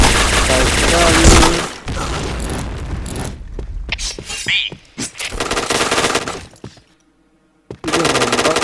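Loud, dense video game gunfire with machine-gun bursts and single shots, breaking off into scattered cracks and a brief silence before another burst, with voices talking over parts of it.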